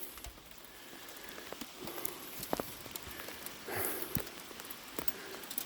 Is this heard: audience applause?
no